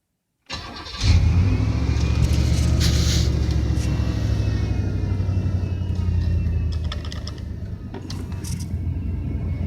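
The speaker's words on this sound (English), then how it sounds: "I do have to start the engine." A 1995 Cadillac DeVille engine cranks and catches, then settles into a steady rumbling idle, close by with no talking.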